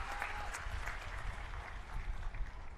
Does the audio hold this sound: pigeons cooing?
no